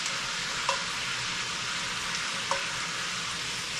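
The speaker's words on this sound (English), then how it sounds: "now that we have them seared, I'm going to kill my heat" Oxtails sear in a hot pan with a steady, loud sizzle and crackle, plus two brief metallic clinks of a utensil stirring against the pan. No one speaks.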